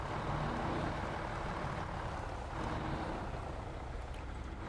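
Engine of an International truck in the off-road driving game SnowRunner, a steady broadband rumble droning continuously throughout with no talk over it.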